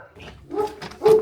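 A dog at a customer's property on a delivery route gives a few short whimpering barks and yips, close and moderately loud, with a louder bark at the end.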